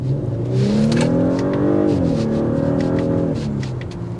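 A 2024 Audi SQ5 Sportback engine revs and accelerates through its gears, a loud, steady, rising drone with a muffled exhaust note, up close.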